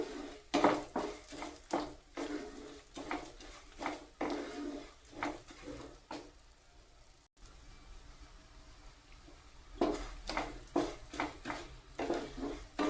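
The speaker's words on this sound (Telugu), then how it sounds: "వెల్లుల్లి, వీటిని బాగా ఫ్రై చేసుకుందాము." Garlic frying in a pan for a curry leaf and nalleru chutney, with a soft sizzle under repeated clinks and scrapes of a spatula stirring against the pan, close and moderately loud, with a quieter pause midway.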